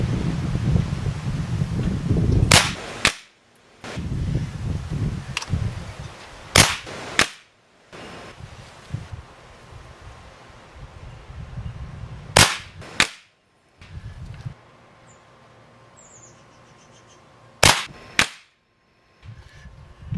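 Beeman Raider .177 air rifle fired outdoors, with five sharp loud cracks spaced a few seconds apart over steady wind noise and rustling in between.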